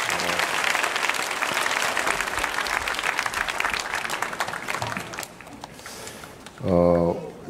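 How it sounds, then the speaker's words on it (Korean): A church congregation claps during a Friday worship service, with dense applause for most of the stretch that fades out, followed by a brief spoken voice at the end. "윤년부 다시 한번 감사의 박수 드립시다."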